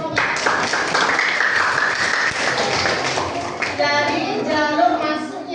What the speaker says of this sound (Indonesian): tepuk tangan untuk Romo